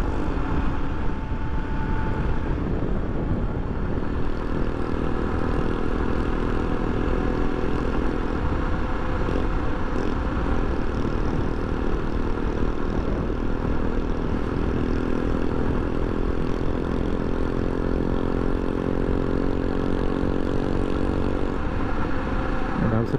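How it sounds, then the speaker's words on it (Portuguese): A modified 50cc motorcycle, apparently fitted with a Pop 100 engine, runs steadily throughout, a continuous buzzing engine drone at a constant, fairly loud level with no voices over it. "Pelo som do motor você já vê que não é cinquentinha."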